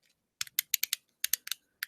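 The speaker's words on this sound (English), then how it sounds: "making all sorts of crazy like clicking noises" A handheld fidget cube gives off a quick run of sharp, close clicks, about a dozen crisp snaps in an irregular rhythm with short pauses between small clusters.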